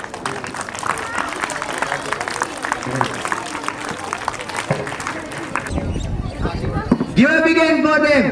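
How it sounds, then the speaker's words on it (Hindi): An audience at a school Independence Day program applauds in a dense, continuous patter of clapping, with a voice speaking over the end. "जोरदार तालियां बजाइए"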